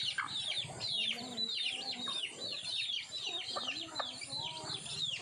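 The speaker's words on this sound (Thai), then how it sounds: "ตัวนี้เป็นแม่ไก่ต่อนะครับ" Many chickens peeping and clucking together in a busy flock, with high chirps of chicks over lower hen clucks, close by.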